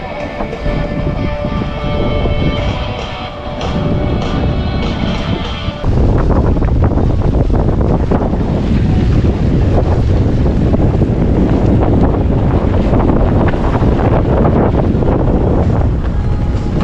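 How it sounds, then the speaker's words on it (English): Wind on a small sailboat motoring directly into it on the Texas Gulf Intracoastal Waterway: loud, steady roaring gusts buffeting the microphone, with engine and water rush beneath, rising to a harsher blast partway through. "we are directly dead into the wind"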